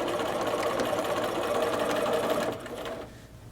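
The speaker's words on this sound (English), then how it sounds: "I am going to stitch forward 2 stitches and then go back and then continue forward, removing each pin" A sewing machine runs steadily, stitching a skirt facing. The whirring is close and continuous, then drops to a quieter hum near the end.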